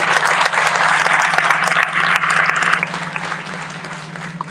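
A large audience at the World Bank Group and IMF Annual Meetings in Marrakech applauds in a dense, steady wash of clapping that holds loud throughout, easing slightly toward the end, with no talk over it.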